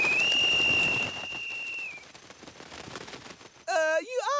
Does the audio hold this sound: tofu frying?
no